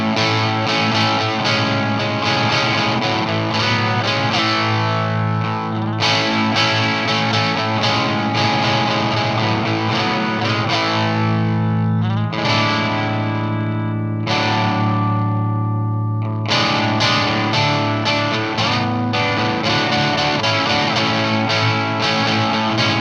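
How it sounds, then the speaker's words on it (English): Electric guitar with distortion and chorus effects plays the chorus riff of a song, a loud, dense, continuous stream of strummed chords with a couple of brief dips, no voices. "I am going to play the chorus riff."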